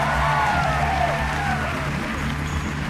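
Audience at a live Miss Africa 2018 pageant show applauding and cheering after a placement announcement, a steady dense wash of clapping with crowd noise and a faint voice over a sustained low hum.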